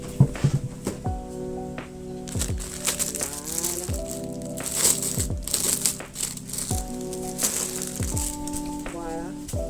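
Plastic packaging around a sewing kit crinkles and rattles as it is unwrapped, with repeated rustling bursts and scraping close by, while a voice talks over it.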